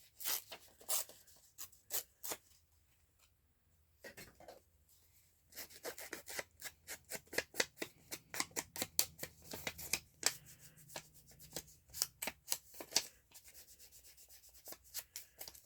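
Scissors cutting down a cardboard shoebox give a close run of crisp snips and rubbing rustles that come in uneven bursts with short pauses between, and nobody speaks.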